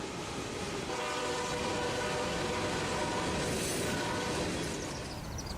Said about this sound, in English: The northbound Autorack Q220 came along with two YN2 units on point.